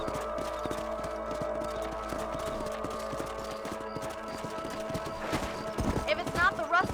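In the Red Dead Redemption video game, horse hooves clip-clop at a steady, even rhythm against a humming game background, and a voice speaks near the end.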